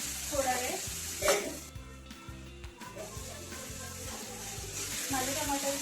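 Tomatoes salted in a hot pan sizzle and soften while a spoon stirs them, producing repeated scraping strokes over a constant frying hiss, close and moderately quiet.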